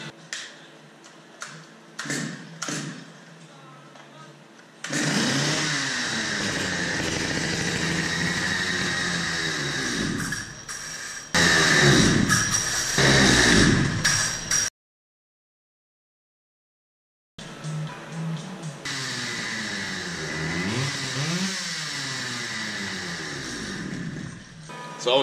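A flathead engine runs after starting, a steady mid-pitched drone that cuts out briefly and then resumes, following some clicks and faint noises before it catches.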